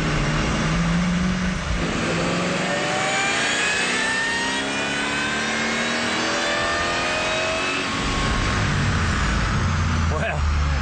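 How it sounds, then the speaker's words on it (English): A 2003 Mustang Cobra on a dyno after a supercharger pulley swap, its engine revving hard and climbing steadily in pitch through a long, loud pull, then easing off and surging again near the end. "let's proceed to make another dyno run and see how the pulley swap affects our numbers."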